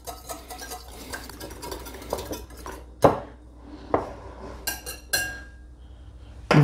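A utensil stirs egg whites into almond flour in a bowl for chocolate financiers, giving repeated clinks and scrapes against the bowl in an irregular rhythm, loud and close, with no talk.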